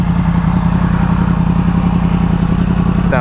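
A Yamaha MT-10 motorcycle with an Akrapovic exhaust idles close by with a steady, loud, throbbing rumble and a rapid pulsing beat, with a short squeak near the end.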